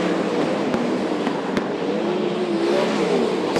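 Sprint cars racing around the Archerfield Speedway oval, a dense, continuous engine roar from several cars at once, steady and fairly loud with no talk over it.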